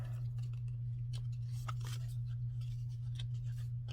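Scissors trimming loose sewing threads on a stitched romance journal: quiet, close snips and small metallic ticks spread across the clip over a steady low hum, with no talking.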